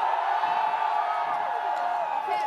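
A large outdoor concert crowd calls for an encore, a sustained distant roar of screaming and cheering that holds steady at moderate level for the whole stretch.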